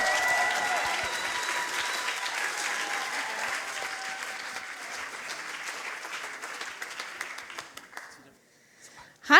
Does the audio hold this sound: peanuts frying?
no